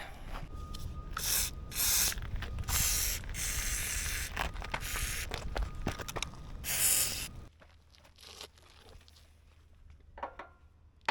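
Penetrating lubricant sprays onto a seized trailer wheel bearing in repeated loud, close hissing bursts for about seven seconds, followed by quieter clicks and faint handling noises.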